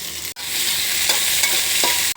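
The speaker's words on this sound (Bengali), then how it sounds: "ভালো করে লাল লাল করে ভেজে নিচ্ছি" Chopped onion and garlic fry in oil in a hot wok, a loud close sizzle broken by brief scraping stirs and a couple of sharp pauses as the pieces are tossed.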